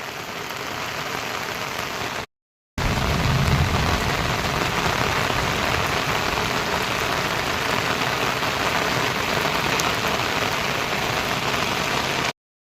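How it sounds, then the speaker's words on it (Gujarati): Heavy rain pours steadily over flooded farm fields in a village, a dense, loud wash of drops that runs almost unbroken, with one brief gap in the sound. "અત્યારે જો વરસાદ બહુ ચાલુ છે કયોનો ચાલુ છે ને ખેડૂત જો પાણી નીકળી ગયા છે અને હજી ચાલુ છે ગાજવીજ"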